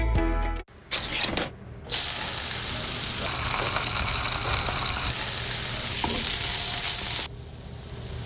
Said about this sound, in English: Spam. Don't knock it till you've fried it. Sizzle, pork, and mmm.